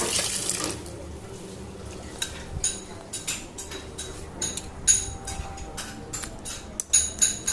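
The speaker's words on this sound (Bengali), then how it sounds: "ওয়াশ করে নেব।" Water runs from a tap while something is washed at a sink, with a rush at the start and then a string of splashes and clatters against the basin.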